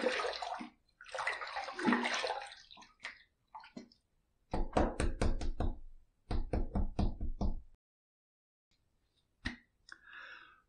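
Water splashes and gurgles in several short bursts during a rinse between shaving passes, each burst loud and close, with quiet gaps and a few soft knocks between them.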